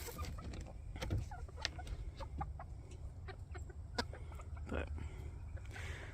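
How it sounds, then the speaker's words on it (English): Rooster and hens in a backyard flock, clucking and calling in scattered bursts over steady low background noise, with a person talking nearby. "And there's the male rooster right there."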